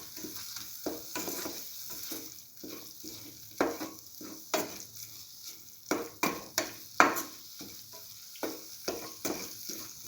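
Scrambled egg and coconut mix being sautéed in a pan, with a soft sizzle under repeated stirring scrapes and clinks of a utensil against the pan, arriving in irregular bursts.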